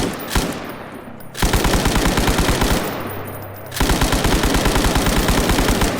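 Automatic weapon fire in the video game Stalker Gamma: two long, loud sustained bursts of rapid evenly spaced shots, separated by a short pause with an echoing tail, close and dominant.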